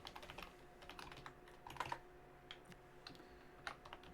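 Steady typing on a computer keyboard, close and fairly quiet, with irregular bursts of key clicks and no talking.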